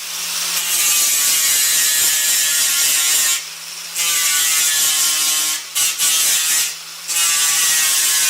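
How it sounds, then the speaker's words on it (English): Sander with a 36 grit disc grinding down welds on a Golf mk2 wheel arch, a loud continuous whine broken by three brief pauses, close by with no talk. "I'm going to get all the weld sanded down. I'm going to use a 36 grit sander disc."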